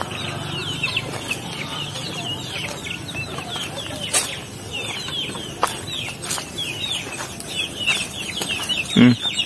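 Rhode Island Red hens and chicks on a small farm, clucking and peeping continuously with occasional wing flaps and a louder squawk near the end, fairly close.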